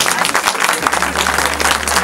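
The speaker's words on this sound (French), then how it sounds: "On applaudit Maëlie Ba quand elle arrive" Audience applauding at a single launch event, a steady dense wash of clapping throughout, close and fairly loud, with no pauses.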